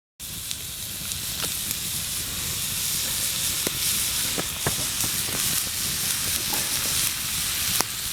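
Moose tongue steak strips fry in butter with pepper at a winter mountain camp, a steady close sizzle and hiss with occasional sharp pops and crackles running throughout, no talking.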